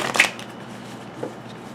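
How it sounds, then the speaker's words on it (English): Deck of tarot cards given a light shuffle, a quick riffling burst near the start followed by a softer second flutter, close and quiet, with no talk. "I'm just going to do a light shuffle again"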